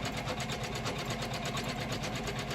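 A Janome MC500e embroidery machine stitches a design onto a towel held in a magnetic hoop, producing a fast, even mechanical rattle of needle strokes, steady and close throughout.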